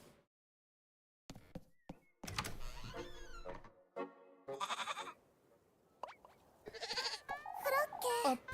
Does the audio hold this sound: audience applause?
no